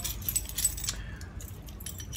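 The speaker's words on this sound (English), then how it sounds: "All these keys. All these stupid keys." Metal keys on a key ring jangle in bright, clustered bursts through the first second, then thin out to scattered light clinks over a low outdoor rumble.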